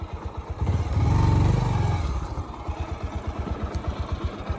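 A motorcycle with a fault idles with a fast, even putter and swells briefly into a louder rev before settling back to a steady close idle.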